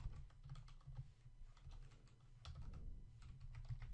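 Typing on a computer keyboard while editing code, a close, steady run of soft key clicks and taps with a low background hum, no voices.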